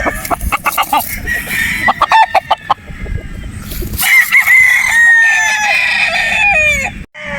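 Gamecock roosters crow loudly nearby, one long drawn-out crow following another, amid rapid clucking and flapping.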